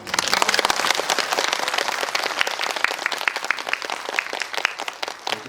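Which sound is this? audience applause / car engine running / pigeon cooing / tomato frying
audience applause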